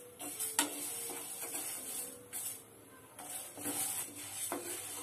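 Horse gram dry roasting in a pan without oil, dry seeds rustling and scraping with intermittent stirring strokes and light crackle, moderately close and steady throughout.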